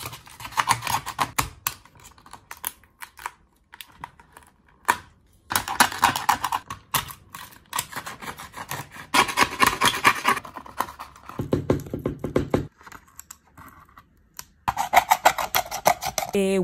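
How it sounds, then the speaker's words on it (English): A knife scrapes and chips at paint that has dried hard on a palette for years, producing close, gritty scratching bursts separated by quiet gaps, with one brief smoother rasping stretch. "I'm trying to use the knife to clip it and then I'm peeling it off"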